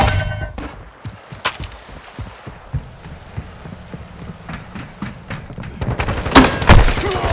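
Gunfire in Call of Duty: Modern Warfare II arrives as scattered sharp shots and thuds through the clip, building into a louder burst of rapid fire toward the end over a busy battlefield background.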